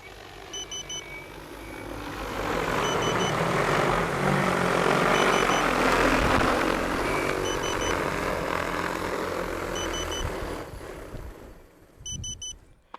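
An XAG P100 Pro agricultural drone drones overhead as it flies back in over a field, its rotor roar swelling loud and steady before winding down on landing, with periodic electronic beeps chirping throughout.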